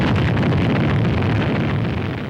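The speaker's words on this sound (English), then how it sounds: "After rising but a few feet, the three-stage 72-foot rocket loses its thrust." A 72-foot three-stage rocket loses thrust just after liftoff and explodes on the launch pad, a loud, continuous roaring blast of fire that stays dense and heavy throughout, with no voices.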